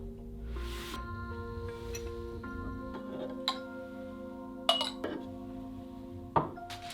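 Glass dishes clink and knock together as they are packed while someone moves out of a Berlin home, with sparse, quiet taps and a few brighter rings over a low background hum.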